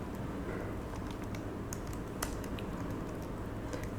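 Computer keyboard typing of code, a run of quiet light key clicks at steady close range with a few sharper taps standing out over a low background hum.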